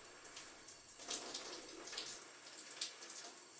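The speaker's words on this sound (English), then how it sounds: "This is the water pressure from the rainfall shower head and the handle." Steady, soft hiss of water streaming from an 8-inch rainfall shower head and handheld spray combo, an even, continuous spray with no talking.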